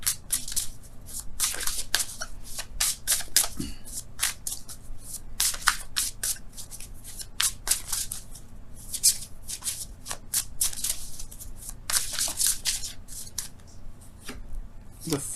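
Tarot cards are shuffled in repeated crisp riffles and flicks, close and steady for the whole stretch, with brief pauses between bursts.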